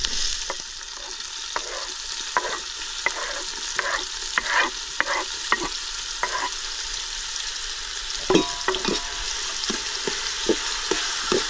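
Chopped onion and tomato fry in a pan with garlic, a steady close sizzle broken by repeated scraping strokes of a spoon stirring the mixture, with no talking.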